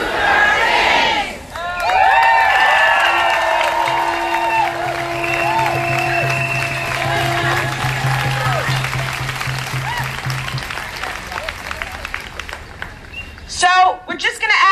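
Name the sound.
crowd cheering at an immigration rally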